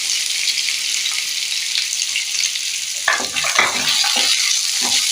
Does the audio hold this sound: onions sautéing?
yes